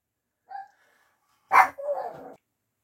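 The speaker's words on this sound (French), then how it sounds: "Les chiens aboient parce qu'il y a les fenêtres ouvertes" Dogs bark outside, heard through open windows: a short yip, then a sharp bark that trails into a longer, rough bark, fairly close in an otherwise quiet room.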